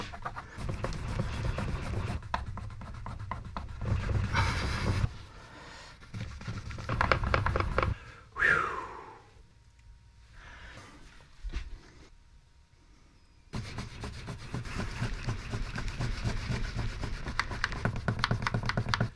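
A cloth is rubbed hard against the body of a Gibson Les Paul Special Double Cutaway guitar to scrub off stuck glue, giving close, rhythmic scrubbing strokes that pause for a few seconds midway before resuming steadily.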